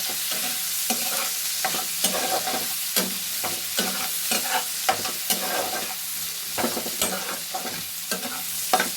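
Bitter gourd slices fry over high heat in oil, giving a constant close sizzle. A spatula stirs and scrapes the pan in a regular rhythm, about one or two strokes per second, and no one speaks.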